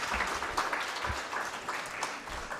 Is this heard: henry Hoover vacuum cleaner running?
no